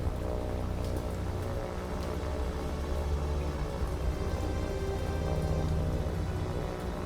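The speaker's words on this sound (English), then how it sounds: "Nice rainy day for it." Steady rain falls in the naval combat game War on the Sea, a continuous dense patter over a low tonal hum that holds unbroken from start to finish, with no voices.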